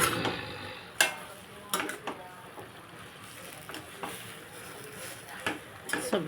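Tomato and coriander chutney is stirred in a pan with a spoon, giving a few sharp scraping clacks at irregular intervals over a faint sizzle in a quiet kitchen.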